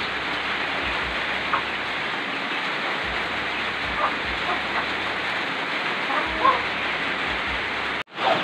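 Rain falling steadily at a farmhouse in cold weather, a dense even hiss of drops on surfaces, with faint low thumps and a sudden cut near the end.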